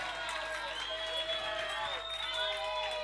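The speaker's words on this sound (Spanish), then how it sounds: "quiero pedir otro aplauso para Marina." Festival audience clapping and cheering steadily throughout at an outdoor Ribeiro wine and music festival, a dense continuous wash of applause with a few whoops, with no pause or gap.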